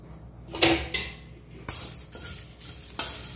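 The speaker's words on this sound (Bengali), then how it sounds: "এগুলোকে আমি শুকনো কড়াইতে ভেজে নেব" Whole spices such as coriander seeds and dried red chillies dry-roasted in a dry wok, with several sharp clattering scrapes and stirs against the metal at irregular intervals, close up and without talk.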